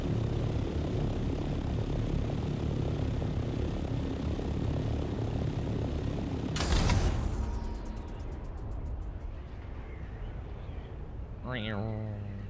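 Steady droning aircraft engine in Dune: Awakening, a continuous propeller-like whir that swells, then eases into a softer gliding hum with a brief whooshing sweep and a rising tone near the end.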